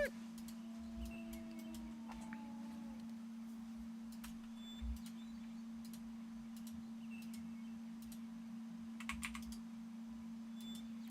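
Computer keyboard typing during PC gameplay, with bursts of quick clicky keystrokes over a steady low electrical hum, close but faint, no speech.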